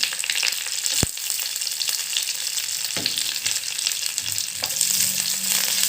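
Cashews and raisins frying in a pan for chicken biryani, a steady close hiss of hot oil with a sharp metallic knock early and occasional stirring scrapes.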